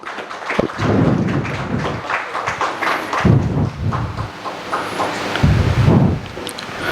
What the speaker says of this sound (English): A huge round of applause, everybody please.